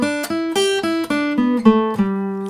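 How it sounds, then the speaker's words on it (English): A major pentatonic scale on guitar is played as a run of distinct plucked notes, about eight in steady succession, each with a bright attack and ringing harmonics, loud and close with no talking. "The major pentatonic scale sounds like this."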